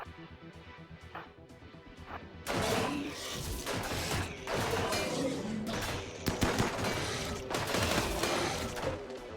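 Rapid bursts of game gunfire crackle through a RimWorld firefight near a power room, sharp repeated volleys growing dense and loud after a few sparse early shots.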